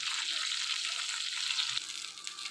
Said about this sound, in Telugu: ఆయిల్ వేడెక్కిన తర్వాత జీలకర్ర, ఎల్లుల్లిపాయలు, ఎండుమిరపకాయలు, కరివేపాకు వేసుకుని బాగా వేయించుకోవాలి